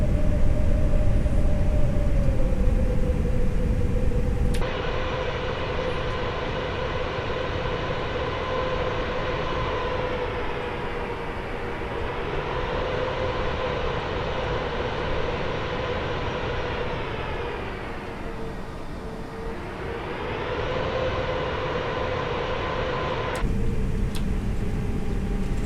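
An airliner in Microsoft Flight Simulator makes its takeoff roll with thrust set: a loud, sustained engine roar with a droning whine that dips and rises, cut in between brief louder cockpit sections.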